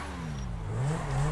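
A Lamborghini Veneno in GTA 5 rumbles at low speed, its engine note rising in a short rev while it maneuvers, steady and moderately close with no other sounds.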